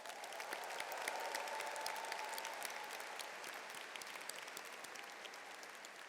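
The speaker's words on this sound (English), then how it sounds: "Please give them a round of applause." Broad, continuous applause from a large audience at a graduation ceremony in Philadelphia, sounding distant and even, swelling slightly at first and then holding steady.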